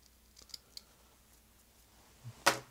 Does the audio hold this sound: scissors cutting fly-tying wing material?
yes